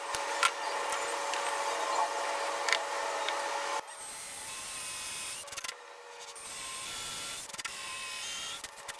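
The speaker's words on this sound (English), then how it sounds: "I'm going to do some pilot holes and countersinks." A power drill bores pilot holes and countersinks into a wooden spline jig, close, loud whirring bursts that stop and restart, separated by brief quieter gaps.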